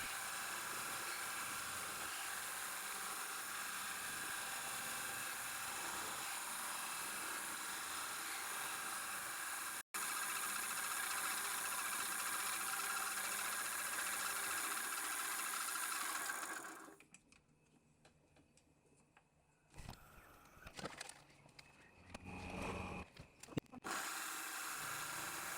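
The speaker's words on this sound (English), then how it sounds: "Again, use the CNC side of it, makes life a lot easier. Just machine out the keyway." A CNC mill cuts a keyway into a steel shaft with a continuous, even machining whine. It stops after about seventeen seconds, leaving faint scattered workshop clicks and rustles.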